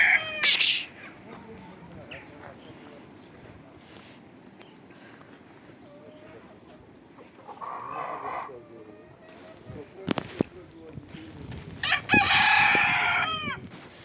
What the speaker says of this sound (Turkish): Bakın tüm tavuklar ota saldırdı şu an.